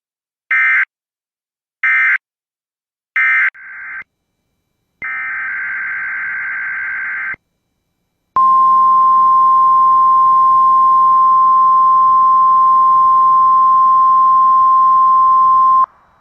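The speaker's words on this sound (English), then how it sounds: "The preceding signal was a test of the public warning system on weather radio station KEC 74." A NOAA Weather Radio emergency alert test begins with three short loud data bursts and a brief trailing burst, then a sustained buzzy tone for about two seconds, followed by a long steady high-pitched alarm tone.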